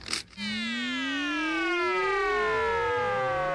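Sound effect for a time machine made from a purple potty, a loud sci-fi whoosh of many sweeping tones rising and falling across each other, continuous for about three seconds after a brief hiss.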